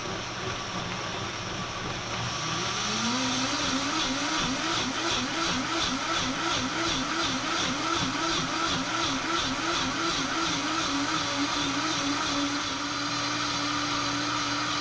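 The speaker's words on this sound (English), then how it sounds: "I'm just going to blend for 3 minutes" A Vitamix 780 high-speed blender blending soup runs steadily and loudly, its motor pitch wobbling rhythmically as the contents churn, continuous for the whole span.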